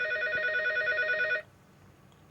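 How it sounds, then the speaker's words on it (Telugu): A telephone in a live TV studio rings with a steady electronic trill, close and clear, then cuts off abruptly, leaving near silence before a short sharp knock. "ఇక్కడ ఏంటో ఫోన్ రింగ్ అవుతుందండి"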